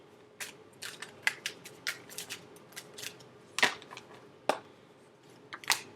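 Tarot cards are shuffled in a quiet room, with a rapid series of crisp, sharp riffles and snaps, some louder clacks standing out, close and alone.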